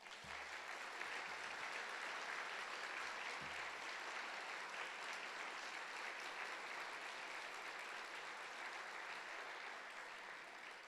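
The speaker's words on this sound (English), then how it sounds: "please join me in giving tonight's musician, Britt Warner, another big round of applause." Steady applause from the audience at an evening lecture-series event on fusion energy, honoring musician Britt Warner, sustained dense clapping at even level throughout with no break, fairly distant and reverberant.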